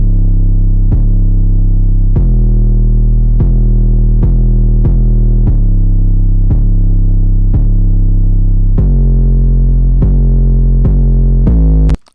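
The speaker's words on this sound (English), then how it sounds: "I just used this Joker 808." Joker 808, a wide stereo bass used in a dark trap beat intro, plays a loud pattern of booming, sustained low notes that hit at a steady pace and shift pitch, with no voices, then cut off sharply.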